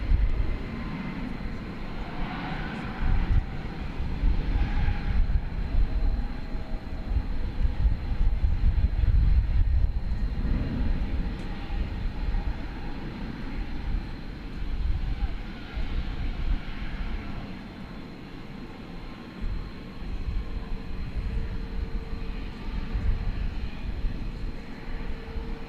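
An American Boeing 737 MAX 8 departs DFW for Sacramento, a moderate jet rumble with a steady high tone, swelling and fading unevenly at middle distance.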